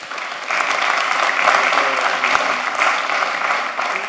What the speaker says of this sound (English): if you guys still feel like applauding